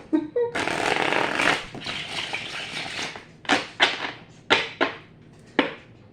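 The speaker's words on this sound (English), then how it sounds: "I'm going to give these 2 good shuffles on the table" Playing cards riffle-shuffled on a table: one long riffle, then several short, sharp bursts, close and loud.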